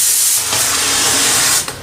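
A pressure cooker cooking dal lets off its whistle, a loud, steady, hissing jet of steam lasting nearly two seconds and easing off at the end.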